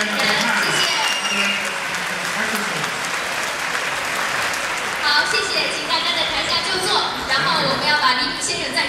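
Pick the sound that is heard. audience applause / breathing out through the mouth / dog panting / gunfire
audience applause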